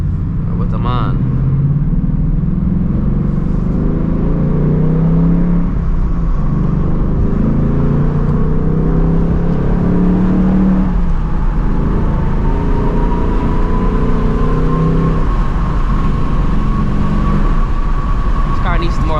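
A 2024 Ford Mustang GT with a loud exhaust drives at night, its deep engine drone and exhaust rumble steady and close, with the pitch rising slowly toward the end.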